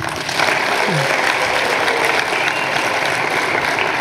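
Conference attendees at a family planning event break into loud, sustained applause that swells within the first half-second and holds dense and even to the end.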